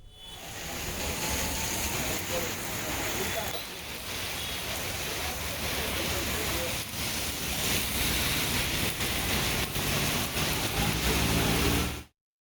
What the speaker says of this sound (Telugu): కొండాపూర్, రాయదుర్గం, హఫీజ్పేట్లో భారీ వర్షం పడింది.